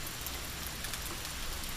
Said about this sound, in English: This rain is not gentle. It floods the ground, it blinds the eyes, it drowns the weak.